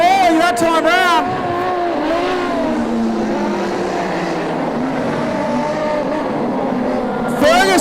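Modified production race cars, including a Cortina, racing at Lismore Speedway on a dirt track at night, engines roaring and revving loudly as cars pass close by, with a race commentator talking over the noise.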